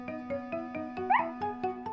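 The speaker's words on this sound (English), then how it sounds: "they heard Snuffy barking and barking." A cartoon dog barks and yaps in rapid, repeated bursts over a steady tonal music background, with a brief higher whining yelp near the middle; no speech.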